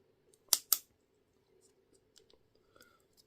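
Two quick, crisp snips cut a copper motor spool in half during scrapping. Soft clicks and handling noises follow over a low steady hum, close and fairly quiet.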